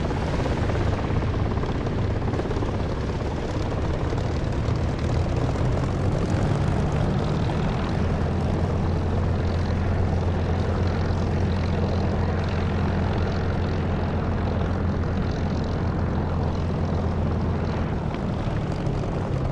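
Spitfire propeller engine roaring during takeoff in the DCS flight simulator, a loud, steady, continuous drone with a low hum throughout and no pauses.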